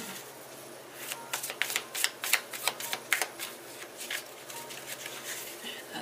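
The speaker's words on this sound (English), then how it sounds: "I'm going to do 3 shuffles." Quick flurries of tarot cards being shuffled by hand, papery riffles in bursts that peak then fade, fairly close against a quiet room hum.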